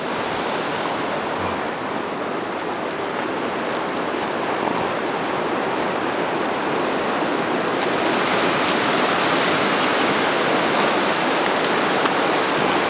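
Continuous rushing water of Cow Creek, a steady broadband flow running nearby, loud and unbroken with no voices.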